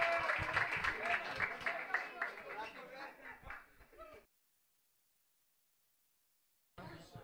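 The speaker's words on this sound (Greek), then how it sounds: "δυνατό χειροκρότημα, Τζίνο, Κόσμιν, Μάξο," Audience applause mixed with laughter and chatter at a live beatbox elimination event at SAE Athens, lasting about four seconds before dropping to silence, then voices return.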